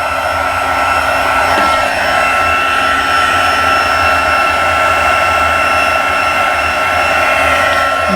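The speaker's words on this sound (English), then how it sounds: "Now my heat tool's already warm from the first time" A warm heat tool blows steadily while embossing powder on a Christmas holly angle-strip card is melted, a loud continuous whooshing hum that never pauses.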